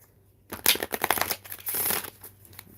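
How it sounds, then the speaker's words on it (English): A deck of cards being shuffled hard during a tarot-style card reading, a burst of close, dense riffling and crinkling flutters for about two seconds after a quiet start, then tapering off. "Let me really shuffle these"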